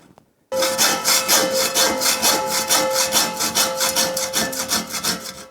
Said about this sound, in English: So let's do a little hacksawing here.